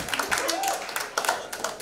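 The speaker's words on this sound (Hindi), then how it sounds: "अपने लिए जोरदार तालियां बजा दीजिए" Audience clapping and cheering at a Zee Cine Awards 2023 press conference, a dense burst of applause with scattered whoops, under and between announcer talk.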